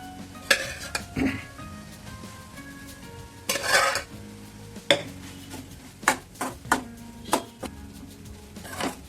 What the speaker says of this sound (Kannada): ಈಗ ಇದಕ್ಕೆ ರೈಸ್ ಹಾಕಿ ಮಿಕ್ಸ್ ಮಾಡಿದ್ರೆ ಆಯಿತು